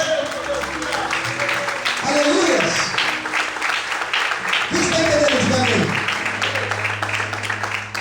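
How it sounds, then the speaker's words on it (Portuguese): A congregation at a church service claps steadily and fairly loudly while a preacher's voice calls out over it, with sustained musical tones underneath. "Vamos para aplaudir ao Senhor em glória."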